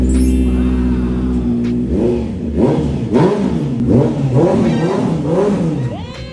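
A 2024 Honda CB650R motorcycle's inline engine idles, then is blipped repeatedly, with several sharp rising-and-falling revs close by, loud over a steady idle before settling back down.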